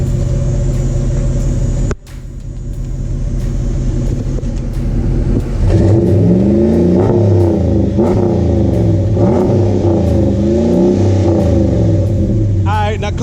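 A 2016 Ram Sport pickup's exhaust rumbles at idle, then after a brief cut the engine rises into a series of deep revs that swell and fall repeatedly, loud and close, with voices talking faintly underneath.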